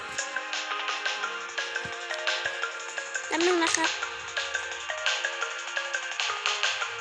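A melodic phone ringtone plays continuously with a bright, bouncy rhythm while someone speaks briefly partway through.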